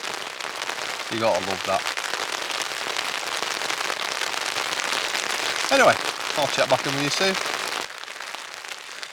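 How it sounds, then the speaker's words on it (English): Steady rain falls through the night on an overnight wild camp in Galloway Forest, a dense continuous patter from start to finish with someone talking briefly over it. "The rain's just not let up all night."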